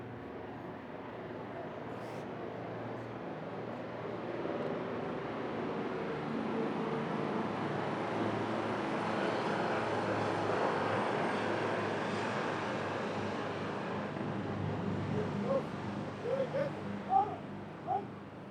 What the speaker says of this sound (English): first formation consisting of 4 Oryx helicopters flying at 300 feet above ground level